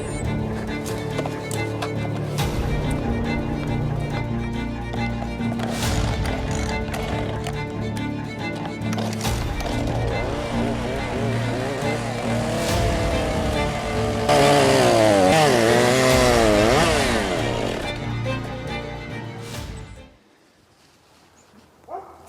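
A cold chainsaw notches logs for cabin walls. It buzzes loudly and steadily, the pitch sagging and rising as the bar bites into the wood, and cuts off abruptly after about twenty seconds.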